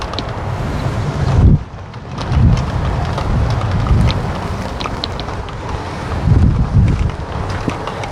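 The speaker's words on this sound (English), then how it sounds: "I appreciate the wind's very strong" Strong wind buffets a garden, roaring and gusting across the microphone with heavy low rumble and surges near the start and later on, no voices heard.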